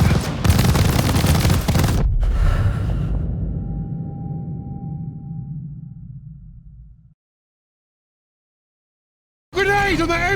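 Machine gun fire in the Call of Duty Vanguard video game sounds as a loud sustained burst that cuts off, leaving a long fading rumble, then silence, before voices shout.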